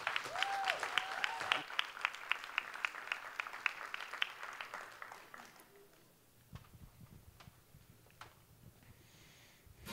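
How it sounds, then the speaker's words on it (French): Audience applause for a 12-year-old girl singer at a gala, dense clapping for about five seconds that thins into scattered claps and fades to quieter room noise. "Une bonne main d'applaudissements pour Marianne Felto."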